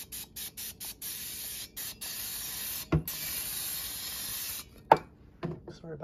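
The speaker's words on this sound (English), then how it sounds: "I'm going to just spray them lightly with some" Short hissing bursts of an olive oil cooking spray, several quick pumps followed by a longer continuous spray, close up, with a couple of clicks near the end.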